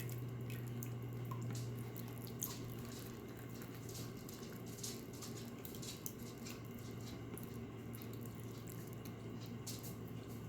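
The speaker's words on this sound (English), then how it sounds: "I'm just gonna ladle the brine" Brine ladled over peppers packed in a jar, heard as a faint, steady liquid pour and trickle with soft drips throughout, alone without talk.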